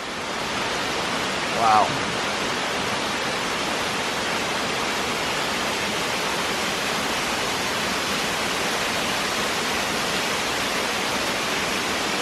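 Steady, full roar of a waterfall along the Appalachian Trail, a broad unbroken rush of falling water filling the scene at constant loudness, with a single brief exclamation from a voice near the start.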